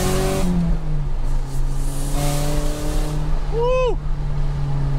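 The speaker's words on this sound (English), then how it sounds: "for only 220 horsepower, that bad boy goes" Porsche 944 Turbo accelerating hard in second gear up a highway on-ramp, a steady engine drone that climbs in pitch under the cabin, with a whistling squeal near the end.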